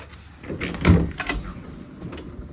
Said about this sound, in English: Now another door to go through.